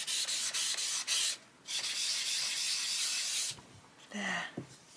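Firm rubbing strokes of colouring pencils being pressed hard and smoothed over paper in an adult colouring book, a close, steady scratchy friction in bursts with short pauses between passes.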